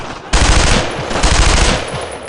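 Sustained machine-gun fire in the World War II shooter Brothers in Arms: Road to Hill 30, loud and close, with rapid continuous bursts starting after a brief quiet moment and carrying on to the end.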